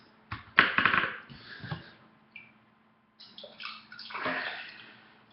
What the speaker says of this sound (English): you're going to pour the water directly over the grounds.